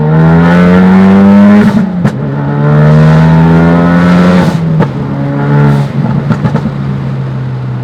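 A 2017 Ford Focus RS accelerates hard through the gears, its engine note climbing loud and close with two brief dips at the shifts, with no voices.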